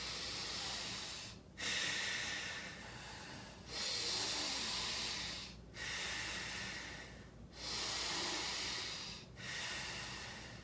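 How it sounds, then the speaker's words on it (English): Slow, deep breaths held during a yoga cow posture: long airy inhales and exhales, each lasting a couple of seconds and separated by brief pauses, close and clear with no talking. "Take a couple of deep breaths remaining in this posture."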